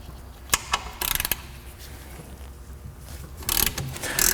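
A ratchet fitted with a T45 Torx bit works on the brake caliper of a 1998 Ford Contour, giving short bursts of rapid clicking separated by quiet gaps, close up and moderately loud, with no speech.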